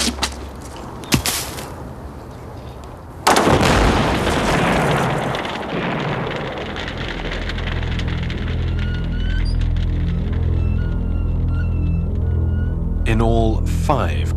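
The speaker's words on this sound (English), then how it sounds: "In all, 5 grenades were thrown into the barn." A grenade blast tears through a barn in a dramatised wartime reconstruction. A sharp, loud boom is followed by a long, rumbling roar, with a low drone and faint voices underneath.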